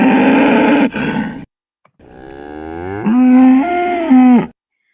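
Recorded calls of individual cows, two loud, close moos with a short gap between them, the second long and drawn out with a rising and falling pitch.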